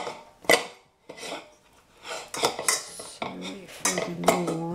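Ripe bananas being pressed and mashed with cutlery in a dish for banana cake: a few sharp metal clinks and scrapes against the dish, then softer squishing rubs, close up and without talk.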